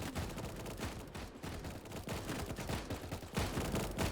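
Sniper tower gunfire in a Roblox zombie tower defense game, a continuous dense clatter of rapid shots layered together, loud and unbroken with no talk.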